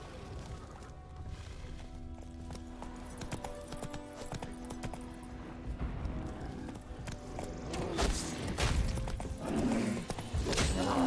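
Horse hoofbeats in The Witcher 3: Wild Hunt, a steady galloping clip-clop that stays close and grows louder toward the end, with no talk over it.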